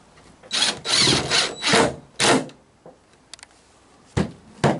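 A power drill drives screws into a wooden porch swing, several short whirring bursts of varying length with brief pauses between, close and fairly loud, no talking.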